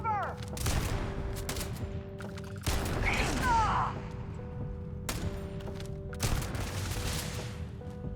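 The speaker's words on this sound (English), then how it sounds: "Shotguns are pretty satisfying in this game, I would say." Shotgun blasts in Starfield, several heavy booming shots a few seconds apart, layered over game noise and a steady hum.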